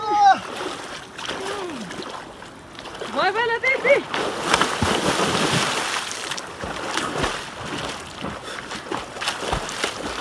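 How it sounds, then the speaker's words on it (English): Rescued ducks splash into water one after another, with brief duck-like calls early on and a run of loud, broadband splashing and sloshing that carries on steadily through the rest. "The ducks actually refused to go in the water until volunteers started throwing them in."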